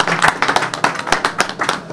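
At a mining and petroleum handover ceremony, a small group claps close by, loud sharp hand claps at an uneven, brisk rhythm with individual slaps clearly separated.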